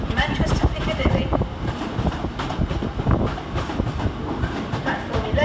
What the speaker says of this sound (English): This train is formed of grey coaches.